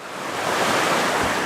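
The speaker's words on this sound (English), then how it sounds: "You may be able to hear the water in the background." Flowing river water in a wild setting makes a continuous broadband rush, steady and fairly loud, with no voices over it.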